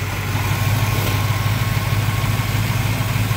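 A 1970 Pontiac Firebird Formula 400 V8 idles steadily, a loud close rumble with an even, lumpy pulse throughout and no voices.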